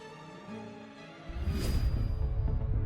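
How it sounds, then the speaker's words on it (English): Solar storm striking Earth's atmosphere rendered as eerie sound: a faint tonal hum swells into a dense rumbling roar with a brief hiss, low and continuous. "And this is the sound of a solar storm crashing into our atmosphere."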